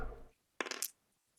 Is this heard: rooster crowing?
no